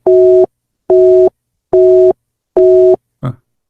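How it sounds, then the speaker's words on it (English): A phone line gives a busy signal: four loud, steady, evenly spaced tones in a regular on-off rhythm, then a brief clipped sound at the end. "Let's try to call her again."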